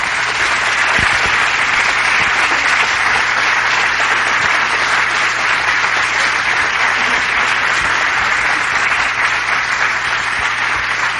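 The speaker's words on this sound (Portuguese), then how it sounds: "Uma salva de palmas para a Neide." Sustained, dense audience applause from a crowd honoring a teacher at a gathering, steady and full for the whole stretch with no talking over it.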